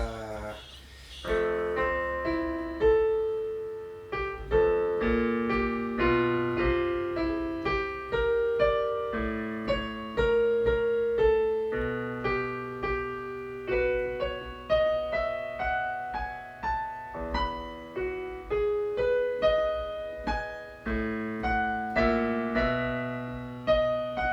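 A lush, sustained melody of layered strings and harmonies unfolds steadily, rich and full, with no voices present.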